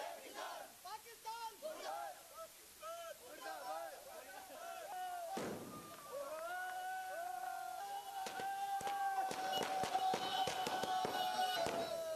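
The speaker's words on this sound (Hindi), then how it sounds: "लोगों ने जमकर आतिशबाजी कर पटाखे फोड़े" Fireworks and firecrackers burst during a street celebration at a village square in Rajasthan, sharp cracks and pops gathering toward the end amid a shouting, cheering crowd.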